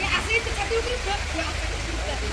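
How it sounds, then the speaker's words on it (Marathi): Heavy rain pours down in a steady, dense hiss, with faint voices murmuring underneath. "भरपूर मोठा पाऊस आला"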